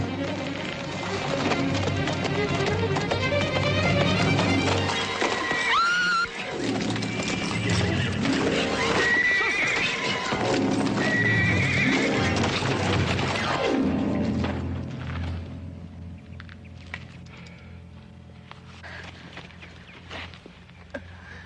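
A horse whinnies and its hooves clatter and trample in a loud, busy scene, with rhythmic clopping and a neigh rising over the commotion before things quieten toward the end.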